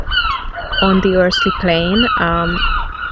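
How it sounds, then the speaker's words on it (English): Seagulls call loudly by the sea during nesting season, their honking, wavering cries repeating in close bursts while a person speaks quietly underneath. "Sorry about the birds. We are actually really close to the sea."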